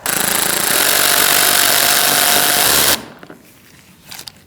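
A power tool whirs loud and close for about three seconds, tightening a grille fastener on a 2016-2019 Chevrolet Cruze. It then cuts off, leaving faint handling clicks and rattles.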